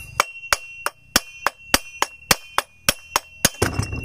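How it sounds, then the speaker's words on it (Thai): Hammer blows on a chainsaw's flywheel assembly while removing it, struck in a steady series of about ten sharp metallic knocks, close and loud, followed by a rougher scraping clatter at the end. "แล้วผมสิใส่ค้อนตีใส่กับนี่นะพี่น้อง"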